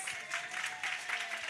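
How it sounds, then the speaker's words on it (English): Audience applause at a community outreach session, a short steady burst of hand clapping filling the room, moderately quiet and continuous with no talk over it. "Can we clap our hands for Glenice?"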